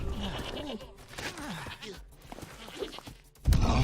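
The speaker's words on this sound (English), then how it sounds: "Yes, me like goat." A goat in Spyro Reignited Trilogy bleats in a string of wavering, quavering cries repeated several times at moderate volume, followed by a sudden louder burst of game sound at the end.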